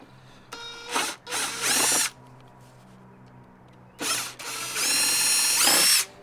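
A power drill or driver backs screws out of a window weight access panel, whirring in two clusters of bursts with a quiet pause between them, loud and close with no talk.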